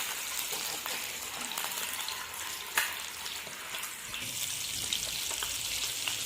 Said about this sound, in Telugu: ఎగ్స్ని ఇలా నీట్గా ఫ్రై చేసుకోండి.